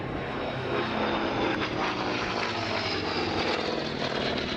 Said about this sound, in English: So we should say a word about Chris, who's flying the aeroplane.